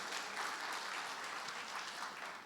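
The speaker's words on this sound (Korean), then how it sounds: "조희숙, 예, 15명 박수 치고." Church congregation at a Korean evangelism testimony gathering clapping together, steady dense applause sustained throughout without pause, with no talk over it.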